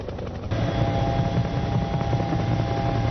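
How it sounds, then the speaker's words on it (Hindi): A helicopter drones steadily with a dense, continuous rotor and engine roar that swells slightly after the first half second and holds at a moderate level, with no talk. "हेलीकॉप्टर की आवाज है"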